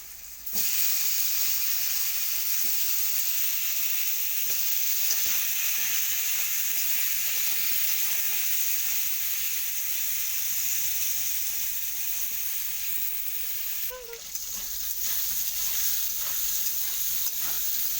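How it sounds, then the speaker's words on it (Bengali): Pointed gourd pieces frying with potatoes and turmeric in a pan, a loud steady sizzle with a bright hiss, occasional soft stirring scrapes and a brief flare of spitting near the end. "পটলগুলো ভাজা করে নেবো একসাথে"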